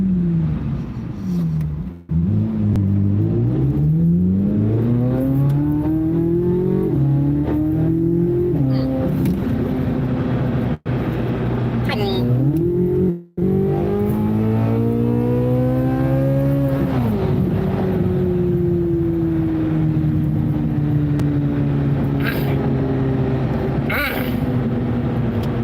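A car engine revving hard through repeated gear changes as it accelerates, heard from inside the cabin, with the pitch climbing and dropping in successive pulls before a long steady drone.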